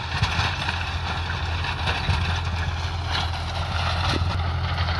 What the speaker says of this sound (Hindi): ये ट्रैक्टर लो के पहले में चल रहा है